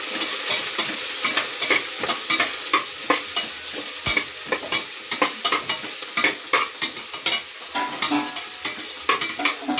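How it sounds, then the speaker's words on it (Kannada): Sliced onions roast in a hot pan for a home-style soya green biryani, with a continuous sizzle broken by frequent sharp scraping stirs of a spoon, close and without any talking. "ಹಾಕೊಂಡು ಈರುಳ್ಳಿನ ಚೆನ್ನಾಗಿ ರೋಸ್ಟ್ ಮಾಡಬೇಕು"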